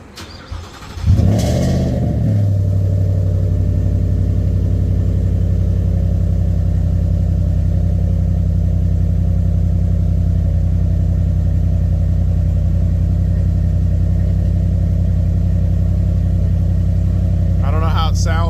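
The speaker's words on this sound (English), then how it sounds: "I figure I'd give the truck one last cold start, see how it sounds with that chambered muffler." A 2022 Ford F-150 with a Whipple-supercharged Coyote V8 and a chambered Flowmaster muffler cold-starts with a brief crank and a loud flare, then settles into a steady, deep, rumbling high idle that holds close and constant.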